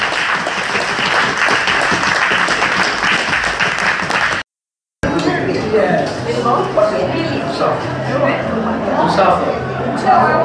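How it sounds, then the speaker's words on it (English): An event audience applauds Dr. Harold Gunadilaka with loud, dense clapping and crowd chatter. The sound cuts out briefly, then returns as scattered claps and murmuring voices. "Ladies and gentlemen, a bigger round of applause for Dr."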